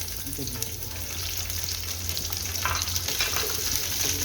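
Small halved onions sizzle in hot oil in a pan, a continuous near crackling hiss that builds slightly, with no talking.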